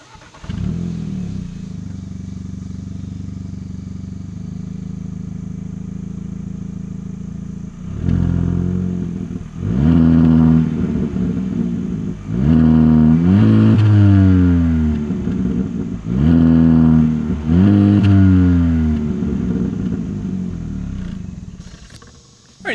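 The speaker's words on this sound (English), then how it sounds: "As always, here is that exhaust clip." Exhaust of a 2022 Hyundai Elantra N-Line: a steady idle burble, then a series of loud, close revs that rise sharply and fall back, repeated about five times before settling, with no talking.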